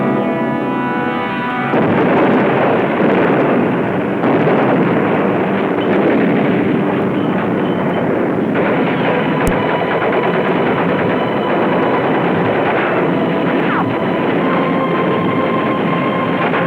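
Dense, continuous gunfire and explosions from the Battle of Iwo Jima rumble loud and unbroken, a wartime documentary soundtrack with steady roaring blasts and no talk.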